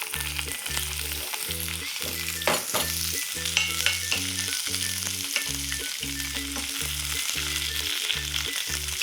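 Cucumber stir-fries in a hot pan, a continuous bright sizzle broken by regular clacks and scrapes of a utensil tossing the pieces, close and loud with no talking.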